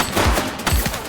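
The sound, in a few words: gunfire in the video game The Precinct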